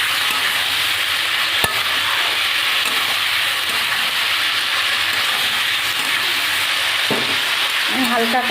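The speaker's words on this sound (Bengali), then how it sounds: "টমেটো আলুটাকে আমি ভালো করে একটু কষিয়ে নেব।" Tomato and potato with turmeric sautéing in a pan, a steady loud sizzle throughout, with a sharp utensil tap and scraping stirs breaking through near the end.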